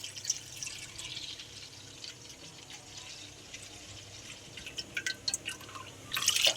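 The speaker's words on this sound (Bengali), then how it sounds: "দুধটা ঢেলে দেবো। দুধটা ঢেলে দিলাম," Milk poured from a packet into a kadai on the stove for sago payesh gives a faint, steady liquid trickle with light splashes, quiet and close, with no talking.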